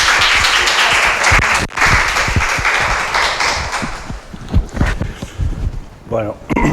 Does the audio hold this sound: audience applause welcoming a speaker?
yes